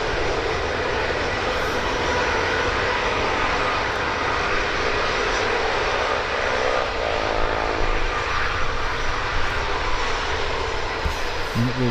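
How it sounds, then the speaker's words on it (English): A Ryanair airliner starts moving at Birmingham Airport, its engines producing a continuous loud, close roar with a whining hum that holds steady. "Ryanair is now on the move."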